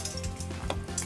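Garlic and onion sautéing in olive oil, a soft steady sizzle with a few light clinks of a utensil against the pan, faint and close.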